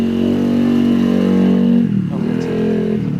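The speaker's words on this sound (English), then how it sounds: "I want to talk about loud bikes." A loud motorcycle engine drones close by with a strong, steady tone, its pitch dropping briefly midway and then recovering, with no speech.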